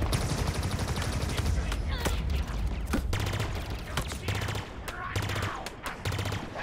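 Sustained automatic assault rifle fire in Halo Infinite's campaign on Legendary, a dense rapid stream of shots with sharp individual cracks, heard under a voice talking.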